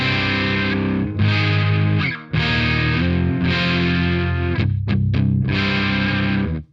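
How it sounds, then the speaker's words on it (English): Daphon Heavy Metal E20MT distortion pedal on an electric guitar, with heavily distorted, sustained chords ringing loud and close, broken by a few short gaps and quick muted stabs, and no voices. "There's the big bottom pedal kicking in."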